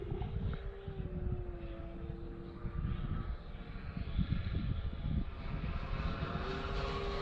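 A Seagull Models T6-A Texan II RC balsa plane flies aerobatic loops and Cuban eights, its engine a steady, fairly distant drone with slowly shifting pitch as it climbs and turns, heard alone throughout.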